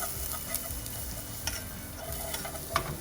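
Ginger and garlic sizzle in hot oil for a black bean sauce fish dish, a steady close frying hiss with a few light clicks of stirring.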